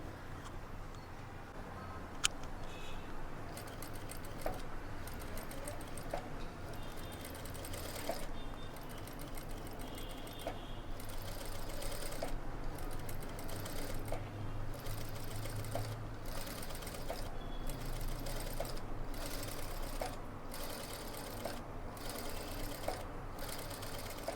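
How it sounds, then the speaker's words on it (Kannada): A sewing machine runs steadily in a tailoring class, stitching with a continuous rapid whir and faint periodic clicks, moderately close and alone without talk. "ಈಗ ಆರಾಮಾಗಿ ನಾನಿಲ್ಲಿ ಸ್ಟಿಚ್ಚನ್ನು ಇದ್ದೀನಿ"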